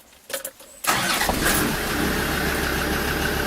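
A Land Rover Defender TD5 diesel engine cranks briefly, catches and settles into a loud, steady idle close by.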